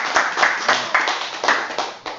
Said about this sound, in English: Come on, we give this guy a round of applause.